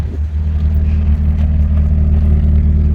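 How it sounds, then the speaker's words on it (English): An MG ZR 120 engine idles steadily up close, a smooth low hum with a faint clatter running throughout and no one speaking. "There's the engine on."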